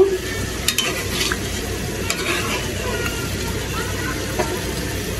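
Vegetables are sautéed and stirred in a pan on a stovetop, a continuous close sizzle with occasional scraping and clinks over a low background hum.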